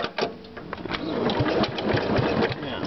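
A 1964 Allis Chalmers B10 tractor engine with a sticking governor runs close by in a fast, steady mechanical chatter that holds at an even level throughout.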